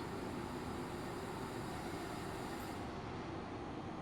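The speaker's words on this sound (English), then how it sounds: "it's a Glacier Express train" A Rhaetian Railway Glacier Express train on the Albula Line, from Thusis to St. Moritz in Train Simulator, gives a steady, loud broadband rumble of rolling wheels and carriage noise that holds constant throughout, with no talking.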